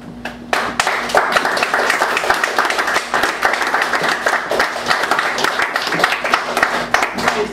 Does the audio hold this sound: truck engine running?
no